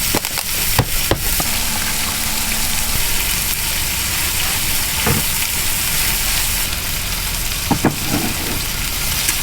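Two meat patties sizzle and fry in a pan inside a 2014 Chevy Suburban, a steady broadband crackle running throughout with a few sharper pops and clinks near the start and end.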